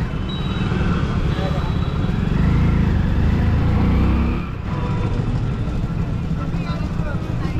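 Busy road traffic in Varanasi, with motorbike engines droning and revving up close in a continuous loud rumble, while a voice talks over it.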